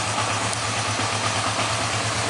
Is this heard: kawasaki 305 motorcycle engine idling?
yes